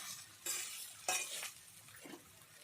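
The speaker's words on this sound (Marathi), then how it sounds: "आता अशी व्यवस्थित अशी परतून घेऊया भाजी" Vegetables being stirred together with mashed potato in a pan, with a few soft scraping and clinking spoon strokes over a quiet, faint background.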